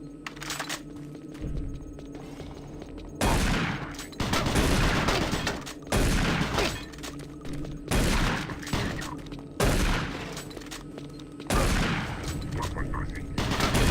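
Shotgun blasts in the shooter game Doom 3, five or six loud broadband bursts spaced a couple of seconds apart over a low droning ambience, with a voice talking in between.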